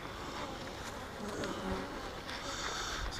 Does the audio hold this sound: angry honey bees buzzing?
yes